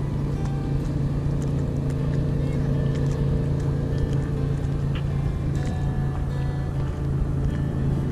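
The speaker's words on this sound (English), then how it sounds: "first boat's coming up" A riverboat engine drones steadily nearby as it passes on the Peace River near Fort St John, BC, a continuous low rumble with water noise and faint voices underneath.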